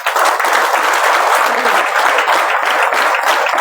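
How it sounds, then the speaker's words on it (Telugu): An indoor audience bursts into sustained applause during a talk on direct selling, dense clapping from many hands holding steady and loud throughout. "చెప్పాలా మరి చప్పట్లు కొట్టాలా?"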